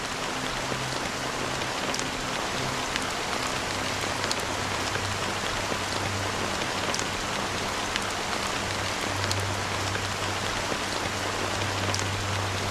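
Steady rain falls across a scene in the game Honkai: Star Rail during a Penacony mission, a constant dense hiss with low droning tones beneath, with no voices.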